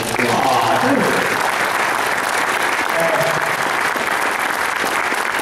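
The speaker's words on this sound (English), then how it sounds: "Round of applause for this." Steady audience applause at a comic con panel in Baltimore fills the room, broad and even throughout, with faint voices mixed into the clapping crowd.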